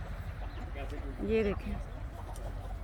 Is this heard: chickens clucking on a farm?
yes